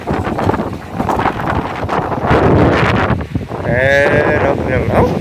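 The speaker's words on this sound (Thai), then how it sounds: "ลมพี่น้องลมเนาะ" Outdoor wind gusts buffet the microphone in loud, rumbling bursts that rise and fall throughout, with a person's voice speaking faintly beneath the blustery roar.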